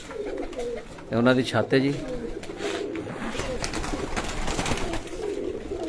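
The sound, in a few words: pigeons cooing on a rooftop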